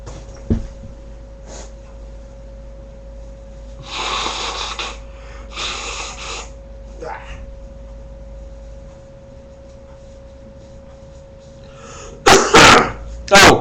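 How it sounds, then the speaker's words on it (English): A person blows their nose in several short forceful bursts, two mid-clip and a louder pair near the end, separated by quiet stretches with a faint steady tone in the background. "I am going to have to blow my nose"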